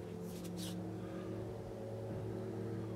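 A Ford Cortina MKIII idles steadily close by, a low even engine drone with a constant hum that continues unchanged throughout.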